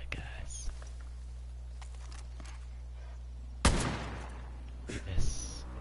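Gunfire in the Far Cry New Dawn shooter game: a few separate loud shots ring out with gaps between them, alongside quiet voice and background game sounds.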